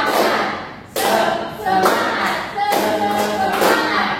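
Elementary school children in a classroom clap a rhythmic spirit cheer, with loud group claps landing in bursts while their voices chant along.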